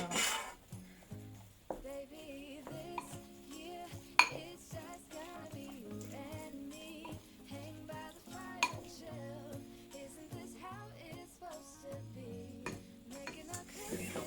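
A spoon stirs egg whites into a chocolate cake mixture in a bowl, giving quiet, irregular clinks and scrapes against the bowl with a few sharper knocks.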